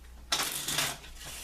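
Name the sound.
shuffling a Cartomancer poker deck of playing cards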